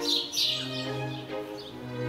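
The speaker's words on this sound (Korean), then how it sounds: "달말리역은 새소리가 그치지 않는 아름다운 정원과 갤러리가 됐다" Birds chirp and tweet in the garden of a former railway station in Scotland, bright high calls repeating over a steady low hum, fairly faint and without talk.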